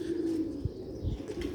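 Sialkoti 'chuhe' pigeons coo softly nearby, giving three short, low throaty coos spaced about half a second apart over a quiet background.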